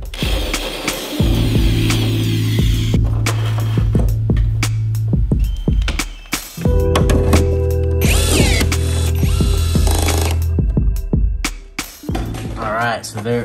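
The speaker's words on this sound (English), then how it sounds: "Let's go ahead and start drilling out some holes." A power drill whirs in two long bursts with a steady whine, drilling holes in a jon boat, separated by clicks, clunks and handling noises close by.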